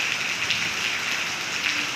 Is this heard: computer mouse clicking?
no